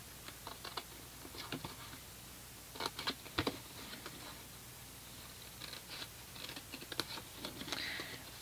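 Scissors snip through paper for a handmade Stampin' Up gift box: faint, scattered crisp clicks and short cuts arriving in irregular clusters, close by but quiet, with no talking.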